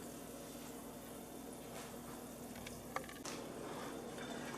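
A roux of flour and fat for gumbo browns in a pot on the stove with a soft, steady sizzle, and a spoon scrapes and stirs faintly with a couple of light clinks.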